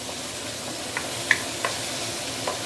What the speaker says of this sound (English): You really want to saute this because the flavor of the onion oil is really what makes this dish very special.